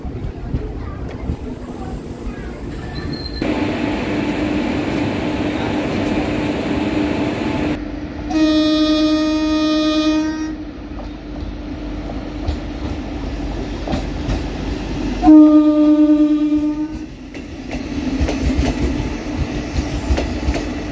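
Jabalpur–Gondia inaugural special train pulling out of a station, a steady rumble of rail cars with two loud sustained horn blasts partway through, close by and continuous throughout.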